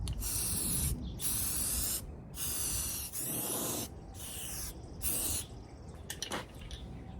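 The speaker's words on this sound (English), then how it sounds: "we're going to hit this spot with some heavy build primer" Heavy build primer sprayed from an aerosol can onto a 1972 VW Super Beetle, in five or six sustained hissing bursts of about a second each, with short pauses between and a few brief clicks near the end.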